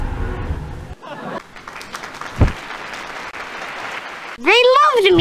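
A crowd in a 1996 PC adventure game, Elroy's Costume Closet, breaks into applause, a dense clapping wash that runs behind a voice and ends as a cartoon voice cries out.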